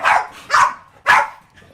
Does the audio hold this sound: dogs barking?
yes